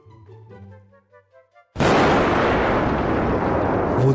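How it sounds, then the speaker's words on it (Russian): A bomb detonates in the Garry's Mod sandbox game, a sudden loud blast that cuts in after a few quiet tonal blips and then roars on as a heavy, sustained rumbling wash of debris. "Эпический взрыв."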